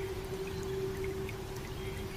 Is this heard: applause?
no